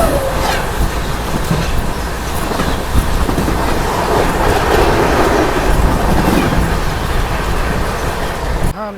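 An express train rushes past at close range with a steady loud roar and rapid clickety-clack of wheels on rails, continuous for the whole stretch before cutting off abruptly.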